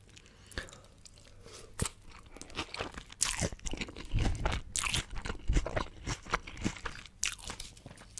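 Someone eats food during a tasting, with loud close-up crunches and bites repeating irregularly over several seconds, wet chewing between them, and no talk.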